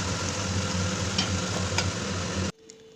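Pork cooking in a pan gives a steady, close sizzle with faint stirring scrapes for about two and a half seconds, then cuts off abruptly to near quiet.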